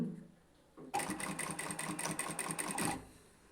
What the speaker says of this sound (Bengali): এই যে দেখুন সেলাই করছি